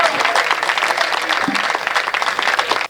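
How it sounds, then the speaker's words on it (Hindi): Audience applause at a Hindi comic poetry gathering, loud and dense and continuous throughout, ending abruptly. "जोरदार तालियां बजाइए"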